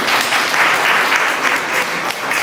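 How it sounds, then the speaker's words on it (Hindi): Dense, loud clapping from a student crowd at a university farewell party fills the hall in a steady, sustained burst without a break. "जोरदार तालियों से स्वागत करें।"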